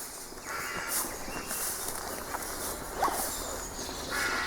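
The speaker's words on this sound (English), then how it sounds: "I can see a little bird above me who's getting quite cross." An agitated little bird calls from the old trees above an abandoned church in woodland, giving sharp, scattered chirps over faint outdoor background noise.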